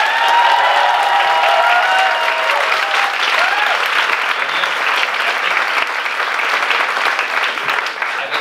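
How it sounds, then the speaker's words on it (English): Dense audience applause at a charity concert, sustained clapping from a crowd with faint cheering mixed in, loud and continuous throughout. "let's get a round of applause for her"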